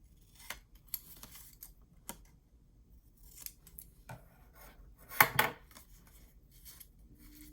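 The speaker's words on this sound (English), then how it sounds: "I'm going to just notch off those little squares again." Scissors notch little squares out of paper for a handmade mini album, a scattered series of quiet, close snips and clicks with one louder cluster of cuts near the end.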